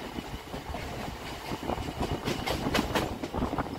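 A Sealdah-Dankuni local train rumbles across the Kakurgachi rail bridge over Maniktala Main Road, with a steady rolling roar and rhythmic wheel clacks heard from on board, and no talk.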